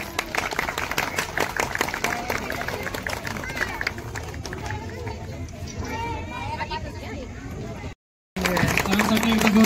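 An audience applauding at a prize distribution ceremony held by a local festival committee, sustained clapping mixed with crowd chatter, which fades toward the end before a short dropout and a return of noise.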